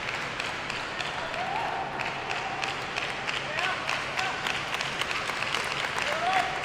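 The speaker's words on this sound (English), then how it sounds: "The claps are resounding. You can hear them echo across the stadium" Stadium crowd clapping at a table tennis semi-final in the Kalinga Stadium, a steady wash of applause with faint voices and whistle-like cheers rising through it, reverberant and continuous throughout.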